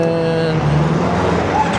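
Newly fitted exhaust on a 2023 Kawasaki Ninja 400 motorcycle, producing a steady, close, buzzing engine drone with faint background voices and some surrounding street noise.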